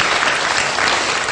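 A close, loud burst of audience applause at a talk, many hands clapping in a dense continuous roar with no voices on top.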